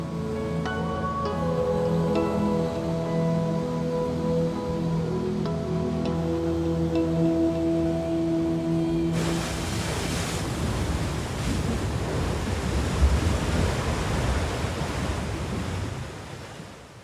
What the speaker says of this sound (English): Khone Phapheng in the extreme south of Laos are the largest waterfalls of Southeast Asia